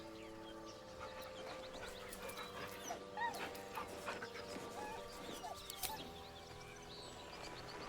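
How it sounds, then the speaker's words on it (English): A dog in the Baldur's Gate 3 video game whimpering nervously, a series of soft, high whines and short yips over a quiet backdrop of faint game ambience. "The dog whimpers nervously,"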